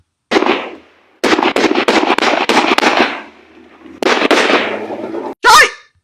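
Bursts of AK rifle and heavy gunfire in urban fighting, loud and close, with rapid cracking volleys separated by short pauses and a final sharp blast.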